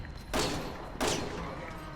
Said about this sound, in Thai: แม่ยิงทั้งแม็กเลยกว่าจะตาย